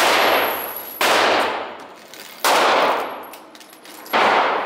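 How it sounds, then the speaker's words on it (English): Three loud, sharp Glock 19 pistol shots ring out at an indoor shooting range, evenly spaced about 1.5 seconds apart, each followed by a decaying echo. "what kind of gun was that? It is a Glock 19"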